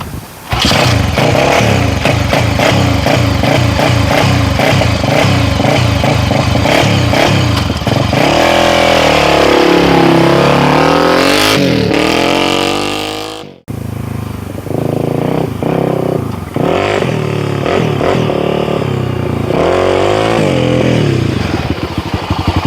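A dirt bike on a desert camping trip kicks and sputters, then catches and idles with a rapid, loud thumping beat, revving up and dropping back. After a brief cutout it idles unevenly, running steadily close by.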